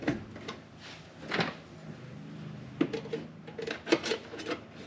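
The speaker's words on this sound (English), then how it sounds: "Slide that thin putty knife here." A thin putty knife slides under a plastic panel near the air intake of a Cub Cadet 500 utility vehicle, giving soft scraping rubs and a few light plastic knocks, close and fairly quiet, no talk.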